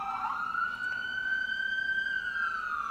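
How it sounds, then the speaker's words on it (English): An ambulance siren wails outside, a loud sustained tone sliding slowly in pitch as the vehicle passes, steady and unbroken across the whole stretch. "Apologize for the loud ambulance."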